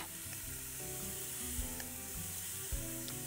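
Sliced onions sizzle and fry in a pan, a steady close hiss with a few soft stirring knocks.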